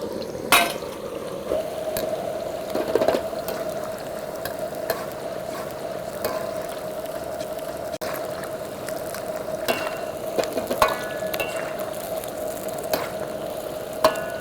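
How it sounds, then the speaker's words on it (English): Raw shrimp and vegetables frying in a hot pan give a steady, dense sizzle with occasional louder stirring scrapes and clatters throughout. "We're gonna add our vegetables and the raw shrimp. This is gonna happen very quickly."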